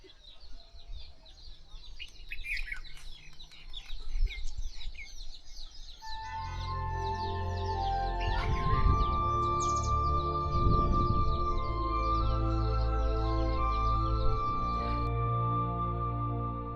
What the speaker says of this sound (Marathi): पक्ष्यांचा आवाज एवढा एकदम मधुर येत आहे